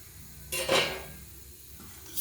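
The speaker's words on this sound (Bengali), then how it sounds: "ঢাকা খুলে দিচ্ছি।" A metal lid clatters off a pan on a pancake maker, one bright scraping clank followed by a faint sizzle and a second small knock near the end, close and moderately loud.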